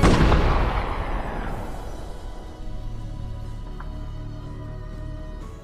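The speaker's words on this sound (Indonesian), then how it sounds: "Hingga saat ledakan terdengar" A war-film explosion hits loud at the start, a heavy boom that rumbles and slowly decays over several seconds, leaving a low lingering tail and a faint later thud.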